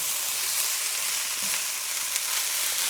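Rice and canned peas, still wet, fry in a pan with a steady, even hiss and crackle, close and moderately loud, with no voices.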